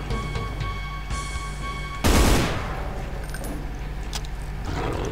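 A weapon being reloaded in Brutal Doom with the Extermination Day realism mod: a sharp, loud mechanical clack and rattle bursts out midway over a steady game background hum, then fades back into ambient noise.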